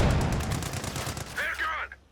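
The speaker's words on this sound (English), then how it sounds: "you can definitely notice the difference in the machine gun firepower there from that Vet 1" Rapid machine gun fire in Company of Heroes 2, a dense burst of repeated shots filling the first half at close range before fading out, with a voice talking over the tail end.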